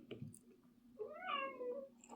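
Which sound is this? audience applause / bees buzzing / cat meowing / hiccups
cat meowing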